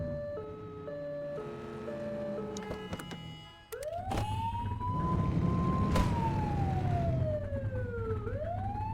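Police car siren in The Precinct video game switching on partway through, a loud rising and falling wail that sweeps up and down over engine rumble after a stretch of game music and tones.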